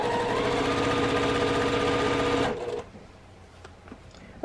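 A sewing machine stitches a quarter-inch seam joining fabric strips, running loud and steady for about two and a half seconds, then stopping abruptly and leaving faint handling noises.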